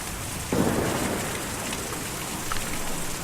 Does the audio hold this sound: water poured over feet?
no